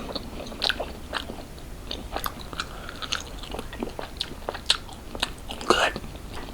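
Chinese takeout dipped in duck sauce is eaten close up, with moist bites, crunchy chews and sticky mouth sounds in an irregular rhythm, and a voice cuts in briefly now and then.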